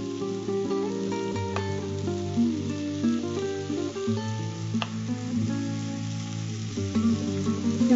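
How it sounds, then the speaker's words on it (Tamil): Chicken tikka pieces roast in oil in a hot pan, giving a steady, close sizzle and crackle that carries on throughout with small pops, no talking over it. "இது ரோஸ்ட் ஆகுது."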